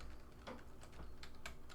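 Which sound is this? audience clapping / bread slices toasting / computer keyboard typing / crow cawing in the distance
computer keyboard typing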